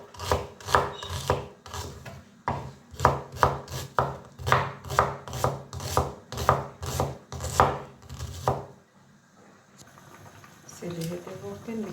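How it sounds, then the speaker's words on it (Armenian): A knife chops onion into large pieces on a board, about fifteen crisp, evenly paced thuds close by, then the chopping stops and only faint kitchen movement remains. "Հիմա կկտրտեմ սոխը, հենց երկար մեծոտ կտրտենք"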